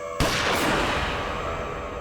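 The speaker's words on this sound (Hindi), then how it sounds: "फिर मैंने गोली चलने की आवाज सुनी।" A single gunshot cracks out abruptly, followed by a long, dense, noisy echoing tail that fades slowly, heard in an indoor night-time dramatic scene.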